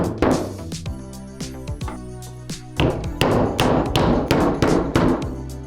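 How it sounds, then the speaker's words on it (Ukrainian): Close, sharp hammer taps through a wooden block drive a bearing into place on a 1981 Karpaty moped, sparse blows at first, then a faster run of firm knocks. "акуратними постукуваннями молотка через дерев'яний брусок забиваємо підшипник"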